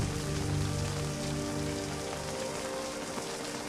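Pouring rain in a Middle-earth scene from The Rings of Power, a dense, even hiss of heavy downpour drumming on surfaces, steady and close throughout with no voices.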